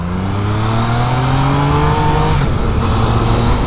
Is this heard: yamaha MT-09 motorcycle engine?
yes